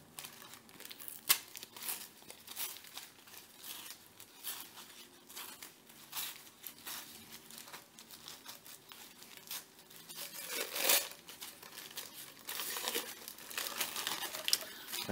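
Close, quiet crinkling and crumpling of wrapping being peeled off a model rocket motor tube, in irregular bursts with occasional sharper tearing sounds and no talk.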